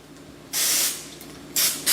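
Oil sprays from a can onto two ears of corn in a kitchen, three short hissing bursts, the first longest and the last two quick, close and clear against a quiet background.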